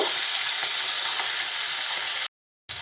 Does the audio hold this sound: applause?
no